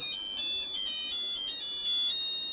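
A Nokia phone ringtone plays a bright, repeating electronic melody of high tones, clear and close with no other sound.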